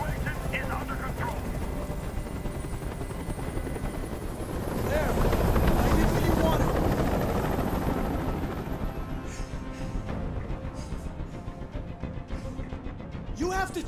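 A helicopter hovers above a hostage scene in the video game Detroit: Become Human, its steady rotor roar filling the background and swelling loudest midway before easing back, with a faint high whine running on top.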